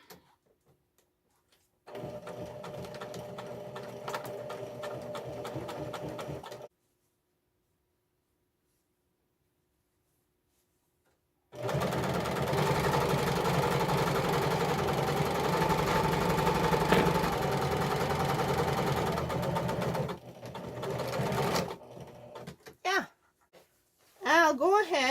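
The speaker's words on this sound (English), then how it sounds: "So I will get my sewing machine." A sewing machine stitches fabric for a basket liner in two sustained runs of steady mechanical whirring, separated by a silent gap, with some handling noise near the end.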